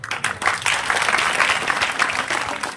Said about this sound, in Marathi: मुलांना तुम्ही टाळ्या वाजला